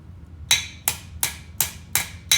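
A hammer striking a sheet metal hem, six sharp, bright metallic blows at a steady rhythm, close and loud, each ringing briefly before the next.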